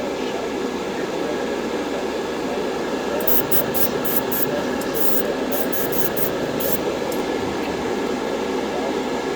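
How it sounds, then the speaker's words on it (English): A spray can mists chrome paint onto a 1/144 Gundam RX-78-2 plastic model, a loud continuous hiss with short sputtering bursts partway through. "Very light spray because we just want to mist it on"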